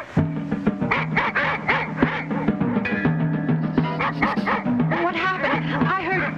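Dog barking in the 1966 film Manos: The Hands of Fate, repeated yips and bow-wows layered under steady talk and film music, fairly close and loud throughout.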